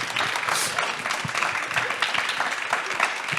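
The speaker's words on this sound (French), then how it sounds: "Les amis, je vais vous inviter à applaudir très très fort nos trois intervenants, Arélis, David et Thomas." An audience gives loud, sustained applause to three speakers at a student information event about studying abroad, with dense overlapping claps and a few cheers.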